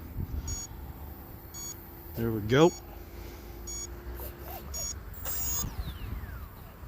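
Short electronic beeps repeat at intervals over steady outdoor background noise, with a brief squeaky warble and someone speaking briefly, as a flying device readies for takeoff.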